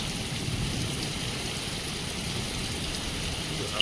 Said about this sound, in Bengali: বৃষ্টি হচ্ছে দেখো।